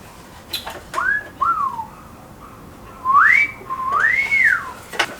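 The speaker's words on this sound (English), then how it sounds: "Are you whistling at me again?" A person whistles several short, rising and falling notes with gaps between them, close by and clear over a quiet background.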